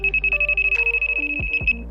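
A Siren R4 carp fishing bite alarm beeps rapidly in a steady run of about twenty short, shrill pulses. The sound is close and loud, and a couple of low knocks come near the end.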